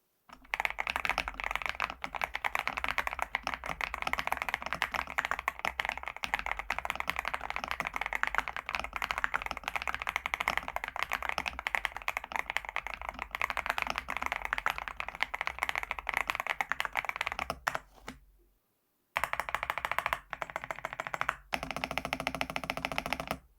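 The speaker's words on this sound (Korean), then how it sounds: "타이핑해보면 올키드 버전 2 스위치가 도각도각거리는 소리를 아주 잘 내는데요" Continuous fast typing on a foam-modded BK75 (Batknight75) mechanical keyboard with Orchid V2 switches, dense muffled clacks up close, briefly pausing near the end before resuming in short bursts.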